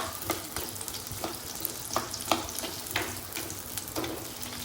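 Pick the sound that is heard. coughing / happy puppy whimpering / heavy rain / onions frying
onions frying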